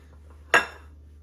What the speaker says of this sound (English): And then you're gonna grab your pie plate or pan.